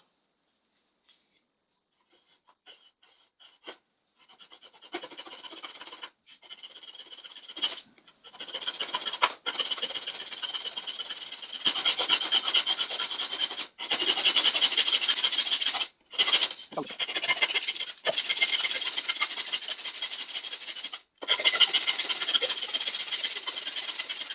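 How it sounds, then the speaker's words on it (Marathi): A hand saw cuts along a marked line in wood. It starts with a few tentative scrapes, then settles into steady, rasping back-and-forth strokes, close and fairly loud, with brief pauses between runs. "आपल्या लाईनवरती हळूहळू कट सुरू करायचा आणि एकदा काही दाते लाकडात शिरले की मग जास्त खालती प्रेशर न देता"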